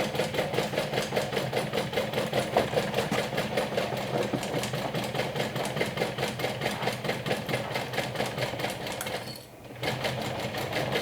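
A sewing machine stitching the seam of a bag, running at a slow, even pace with rapid regular needle strokes and one brief pause near the end.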